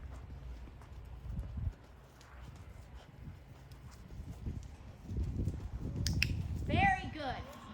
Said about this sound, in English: he was still trotting